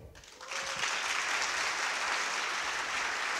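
A seminar audience bursts into clapping during a group exercise, a dense, even wash of applause that starts abruptly and holds steady, heard alone without talk.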